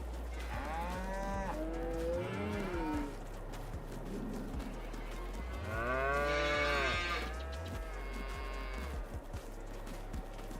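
Cattle on a farm lowing repeatedly, several long drawn-out moos from a sizeable herd rising and falling over steady outdoor background noise, with one especially loud, near call in the middle.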